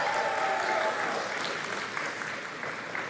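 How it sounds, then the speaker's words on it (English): Short, steady round of audience applause at the POCO F7 Pro and F7 Ultra smartphone launch event, a dense wash of clapping at moderate level. "give it applause for him"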